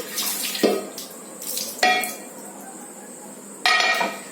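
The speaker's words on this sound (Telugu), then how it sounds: "దోశ పెన్ను తీసుకోకముందు కొద్దిగా వాటర్ వేసి" Water splashes and runs in short bursts onto a metal dosa pan, three separate pours with quiet gaps between them.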